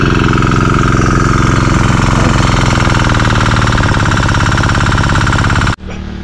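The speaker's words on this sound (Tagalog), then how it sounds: "iniwan na namin yung makina doon umaandar" A mid-sized engine is left running, a loud continuous rattling chug with a steady rhythm throughout that drops away abruptly near the end.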